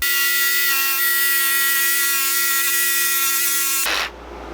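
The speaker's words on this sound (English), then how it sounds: "I'm going to use a jigsaw to cut these out." Jigsaw cutting curves into a 2x4 board, a loud close steady buzzing whine that runs continuously for about four seconds, then cuts off abruptly as the blade stops.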